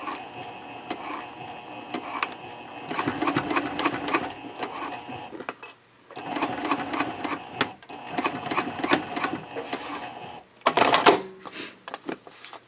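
A sewing machine top stitches Cordura fabric on a trifold wallet with a 1/4 inch edge guide, running in several close bursts of rapid rhythmic stitching, with short pauses and a few clicks between runs.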